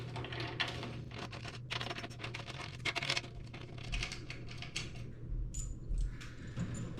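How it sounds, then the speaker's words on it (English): A drum key loosens the tension lugs around a snare drum's top head, giving a run of small, close metallic clicks and ratchety scratches in uneven bursts over a low steady hum. "loosen all the lugs around the top head with your drum key"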